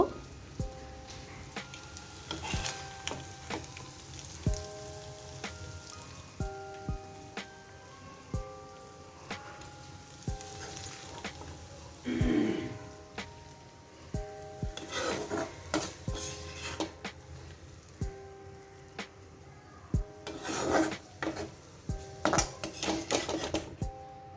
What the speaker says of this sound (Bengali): এবার আমি কড়াই থেকে তুলে একটা প্লেটে সার্ভ করে নিব